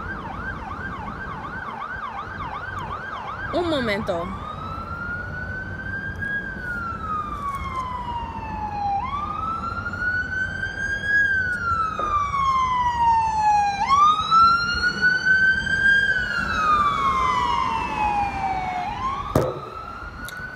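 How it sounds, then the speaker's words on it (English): An emergency vehicle siren wails in repeated rising and falling sweeps, loud and steady over a constant traffic rumble, with a brief spoken phrase near the start. "Every time my mother hear an ambulance or police has to ride by."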